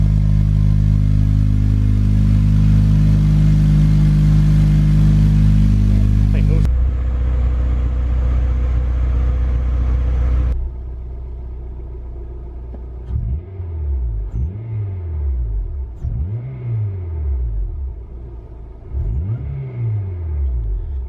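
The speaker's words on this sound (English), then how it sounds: "Actually, the supercharger in the intake is now louder than the exhaust." A supercharged Acura TSX sits at fast idle with a steady loud drone, then the note drops and settles into a lower engine hum with rhythmic swelling pulses, while a voice talks near the car.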